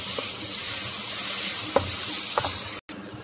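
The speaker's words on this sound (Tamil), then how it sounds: "அந்த அளவுக்கு தக்காளி வந்து நல்லா ஃப்ரை பண்ணிக்கலாம்." Tomatoes fry in a pan with a constant close sizzle, while a spoon stirs with a few soft scraping knocks, and the sound briefly cuts out near the end.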